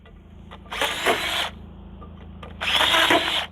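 Two short bursts of a power drill whirring into material, drilling a small hole for a non-penetrating roof mount, each lasting under a second, separated by a quiet pause, close by and loud.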